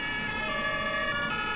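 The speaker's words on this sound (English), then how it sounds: "the ambulances have almost arrived" An ambulance siren wails steadily in the Emergency 4 emergency-services game, loud and continuous throughout with a sustained tone, no speech over it.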